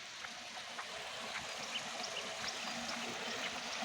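Water flows steadily out of an outlet at Ghanpokhar with a soft, continuous rushing trickle, faint and unbroken, with no voices.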